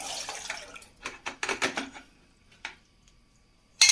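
Cooked semiya poured into a strainer, water splashing and draining in short irregular bursts that taper into quieter trickles, closing with a final clatter.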